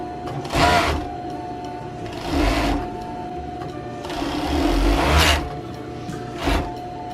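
A serger sews a hidden hem on pajama legs in several close, rapid whirring bursts separated by brief pauses while the fabric is turned.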